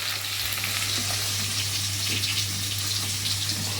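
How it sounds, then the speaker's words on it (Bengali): Eggplant fries in a hot pan with a constant close hiss of sizzling oil over a low steady hum, uninterrupted throughout. "বেগুনটাকে ভেজে নিলাম।"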